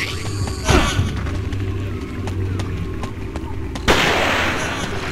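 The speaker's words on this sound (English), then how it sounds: "That thing's still shooting me." Gunfire from an enemy in the video game Forbidden Siren, a few loud sharp blasts standing out over a dense game soundscape with steady background noise.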